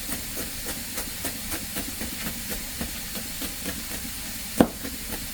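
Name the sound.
dal frying and sizzling in a pan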